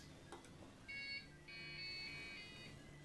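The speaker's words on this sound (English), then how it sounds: "Huh, that custom startup beep sounds a little familiar." A custom computer's startup beep, a slowed-down, slightly off-key take on the Intel chime, sounding as sustained electronic tones over steady fan hum, fairly quiet and without speech.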